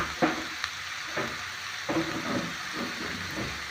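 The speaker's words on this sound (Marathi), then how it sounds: "हे टाकून परत हलवायचं आहे" Spices and salt being stirred into pumpkin curry in a hot pan, giving a steady sizzle and frying hiss broken by several scraping spatula strokes at close range, with no talking.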